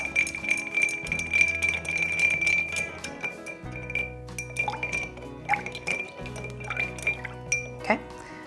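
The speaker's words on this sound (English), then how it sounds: "So we're just gonna add a large ice cube here and stir this until it's all well chilled." A large ice cube clinks and rattles against a cocktail glass as it is stirred, repeated bright chimes close by, with a voice talking over the stirring.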